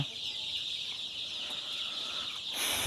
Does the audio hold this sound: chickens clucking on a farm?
yes